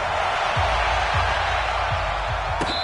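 Crowd noise fills a football video game stadium before a Carolina Panthers versus Miami Dolphins matchup, a dense steady roar with low thumping beats underneath and a brief higher whoop near the end.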